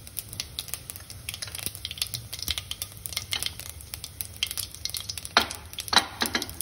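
Cumin and mustard seeds crackle and sizzle in about three spoonfuls of hot oil in a pan for sweet corn sabzi, a steady close frying hiss with scattered sharp pops growing louder toward the end, no talking.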